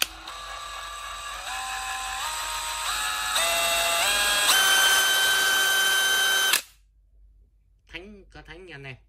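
A DeWalt 996 cordless drill from the US runs loudly and steadily for about six seconds, its whine stepping upward in pitch as the speed rises, then cuts off abruptly, followed by brief faint speech.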